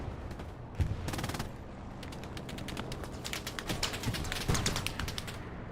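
Machine gun fire in the WWII shooter Hell Let Loose during a competitive scrim, heard as rapid, dense bursts of crackling shots that run almost continuously, with louder volleys near the end over a steady battlefield din.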